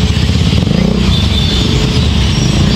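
A motorcycle engine running loud and close, revving steadily with a continuous rattling roar and no pauses.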